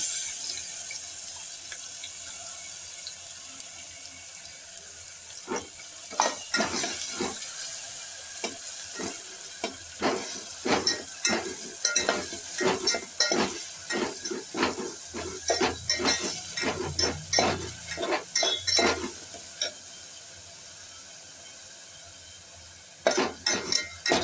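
A ground paste of garlic, ginger, green chili and cumin fries in a pan for a traditional ambadi greens dish, giving crackling sizzle bursts that come and go with stirring. A quieter sizzle stretch sits between them, and no one speaks.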